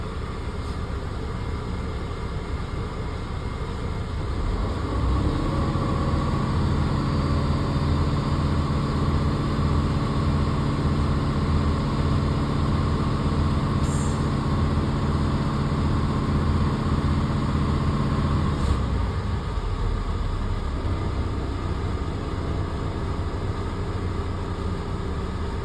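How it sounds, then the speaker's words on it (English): A truck engine idles during a CDL pre-trip brake test while air pressure builds to a 120 PSI governor cutoff. It gives a continuous low drone, with a stronger steady hum joining after a few seconds and dropping away near the end. "I'm going to let it build up air pressure at 120 PSI."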